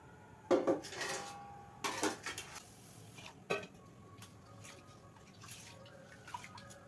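A large metal cooking pot (dekchi) is set up in a small home kitchen space, producing a few sharp clanks and scrapes of metal on metal, with softer knocks and rattles in between, close and isolated with no talk.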